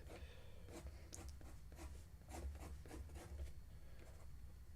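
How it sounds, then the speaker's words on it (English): Pencil sketching a church roof on paper, a quiet close scratching and rubbing in repeated short strokes over a steady low hum. "Sketching the roof here, some of the materials."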